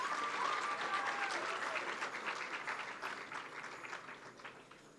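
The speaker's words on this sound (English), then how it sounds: "Another warm round of applause to Ishesha." Applause from the audience at a 2024 graduation ceremony, a dense steady clatter of many hands that starts loud and slowly thins and fades over five seconds, with no talk over it.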